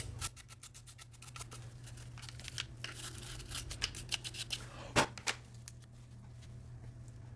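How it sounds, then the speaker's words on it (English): A nylon brush scrubs the polymer frame of a Springfield XD pistol in quick, rhythmic bristly strokes, close and fairly quiet over a faint steady hum, with a few sharper scrapes; no talking. "I like to switch to a nylon brush just so it doesn't scratch up the polymer"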